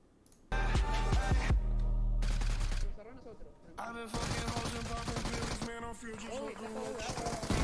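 Gunfire in the mobile battle royale game PUBG Mobile comes as bursts of rapid automatic shots and sharp single reports, mixed with music and game effects, while a voice talks over parts of it.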